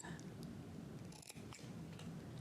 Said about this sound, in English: we're going to cut out the shark's sharp teeth